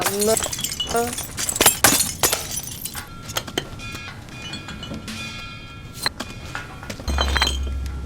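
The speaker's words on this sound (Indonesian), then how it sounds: "Kaca pecah belah di mana-mana." Glass breaking and shattering during a fight scene, with several sharp crashes and clinks in the first two seconds followed by scattered tinkling debris and bell-like ringing, set against voices and commotion.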